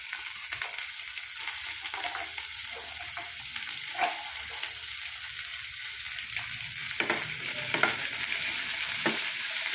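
Onion and green chilli sautéing in a pan, a quiet steady sizzle with occasional soft scraping stirs, close and low in level, no voices.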